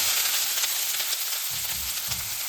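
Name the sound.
onions sautéing in pan for egg gravy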